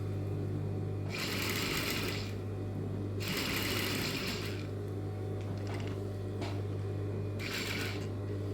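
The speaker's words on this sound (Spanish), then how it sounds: "abrimos y vamos a coser" Sewing machine stitching a school uniform skirt, running in three bursts of fast whirring stitches over a steady low mechanical hum, close up, with a few small clicks in between and no talking.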